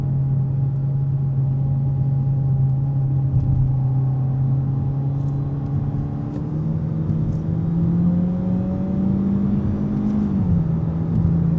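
A Kia K4 car with a CVT, driven in manual mode, accelerates with a steady rising engine drone and whir, then drops in pitch at quick shifts, heard from inside the cabin with no talking.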